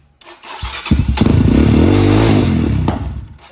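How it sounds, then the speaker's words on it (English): Motorcycle just out of storage being cranked as fuel reaches the carburetor, a few starter thumps building into a loud sputtering engine burst with a backfire, close and heavy, then fading. "Oh, there was a backfire there."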